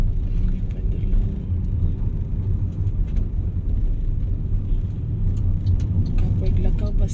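Busy afternoon road traffic rumbles steadily nearby, a continuous low engine drone of passing cars and vehicles with occasional higher mechanical whines, while a person talks over it.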